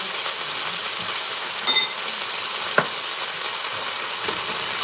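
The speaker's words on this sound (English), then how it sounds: "I'm just going to saute that. Keep moving it around." Minced garlic sautéing in a pan, a steady broadband sizzle throughout with a couple of brief clinks from stirring, close and moderately loud, no voices.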